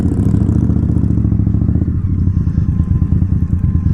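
A Harley-Davidson Iron 1200 motorcycle rides along, its loud, close V-twin engine giving a deep steady pulsing rumble with a slight change in tone partway through.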